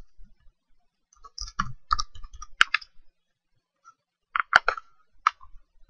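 Typing on a computer keyboard comes through as sparse, crisp clicks in two short clusters separated by a quiet pause, close and fairly faint.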